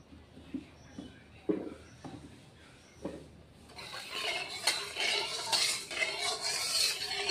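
Fish pieces being mixed by hand with turmeric and salt in a bowl, soft wet squelches and light clinks against the bowl, quiet at first, then a louder, denser stretch of handling; no talk.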